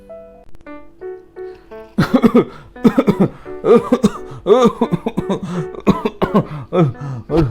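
Harsh, repeated coughing fills most of the stretch, a fit of rapid close coughs after a few soft tones at the start.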